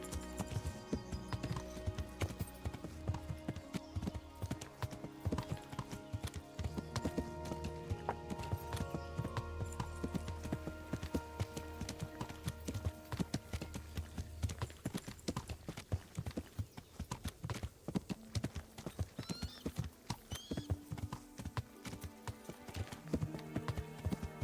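Horse hooves clip-clopping steadily in an RPG video game set in woods, a continuous rhythmic walking gait over layered game music, with an occasional whinny.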